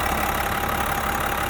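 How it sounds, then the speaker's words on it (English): The 3-liter Duramax diesel engine of a 2026 GMC Sierra 1500 Denali pickup idles steadily up close, a constant mid-low rumble with a faint knocking texture and no talking. "Here's your 3-liter Duramax diesel."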